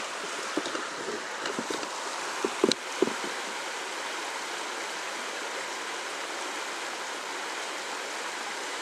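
A deep river flows on a foggy, dark day with a constant broadband rush of moving water. A few knocks and splashes stand out in the first few seconds, then the steady flow carries on alone.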